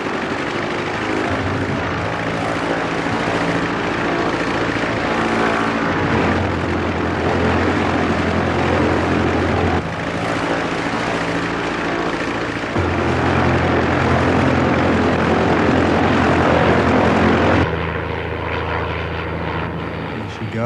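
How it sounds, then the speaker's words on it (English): Aircraft engine held at full power through a dive at an air display, a loud steady propeller drone with shifting pitch and no letup, voices talking underneath. "Has he done the dive with the engine full on yet?"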